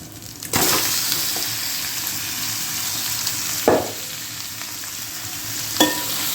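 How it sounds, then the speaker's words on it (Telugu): Fish pieces for a Godavari village-style fish curry sizzle in a hot pan with ginger-garlic paste, a steady frying crackle broken by a few sharp scrape-and-stir clatters. "ఈ చేప ముక్కల్ని దీంట్లో వేసేసుకుందాం"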